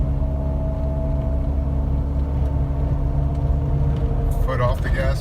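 A 2015 Jeep JK engine running with the foot on the gas, a steady low rumble and hum with a faint tonal whine, joined near the end by a brief higher warbling sound.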